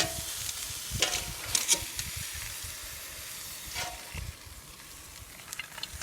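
Western rock lobster sears in a hot pan, giving a steady close sizzle and hiss with a few brief scraping stirs and clinks, no talk.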